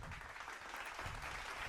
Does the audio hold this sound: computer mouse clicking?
no